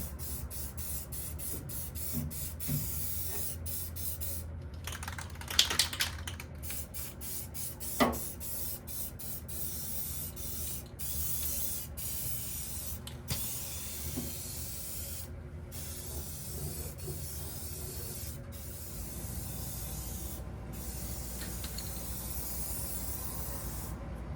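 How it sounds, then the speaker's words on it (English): Short hissing bursts of aerosol spray, close by, with a few sharper puffs early on over a steady background hiss. "Spray it a little bit too."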